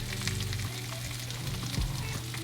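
Poultry skin, wings and legs, frying slowly in a pan to render the fat, a steady close crackling sizzle with a low hum beneath, no talking.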